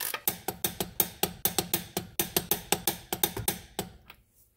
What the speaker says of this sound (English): Now, get your torque wrench. Set it to 65 foot-pounds or 88 newton meters.